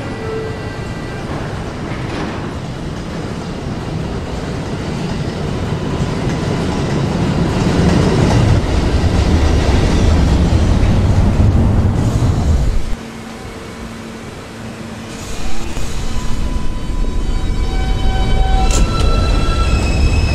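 A New York City subway M local train bound for Middle Village Metropolitan Avenue runs loudly, with a steady roar and clattering wheels that swell as it speeds up, a brief quieter stretch, then rumbling again alongside faint tonal whines.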